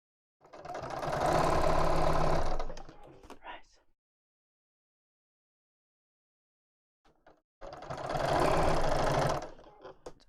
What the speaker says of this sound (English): just sewing around in a circle, so longer stitch because it's a top stitch